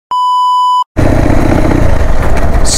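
A steady one-second beep cuts off, then a motorcycle engine idles loudly close by with a rough, continuous low rumble for the rest.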